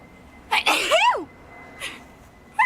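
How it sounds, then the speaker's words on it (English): A person's loud, close sneeze, one sharp burst followed by a second smaller one, then a brief exhale and a final short sneezy sound, indoors. "I have to Go ahead and sneeze"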